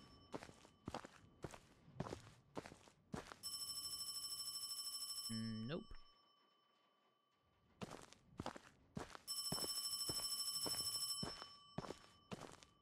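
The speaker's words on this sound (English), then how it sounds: "Find the phone. Okay, sounds like it's over here." A telephone rings in a video game in two long bursts, each a steady electronic trill. Footstep-like thumps walk in between, and one brief spoken word comes in.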